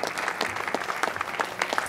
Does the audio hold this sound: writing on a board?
no